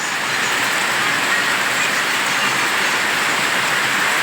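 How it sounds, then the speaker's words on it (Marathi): Heavy rain pours down while water gushes from a roof gutter, a loud unbroken broadband roar with no pauses. "जोरात पाऊस चालूला पाऊस चालू झालेला आहे आणि हे बघा इकडं इकडं बी जोरात वरनं पन्हाळीचं पाणी येतं"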